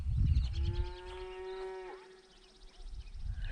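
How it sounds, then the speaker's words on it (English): Cattle out on the open range moo once in a long, drawn-out low call, fairly close, with wind and outdoor rumble around it and no talking. "these are some of the cows that are out here."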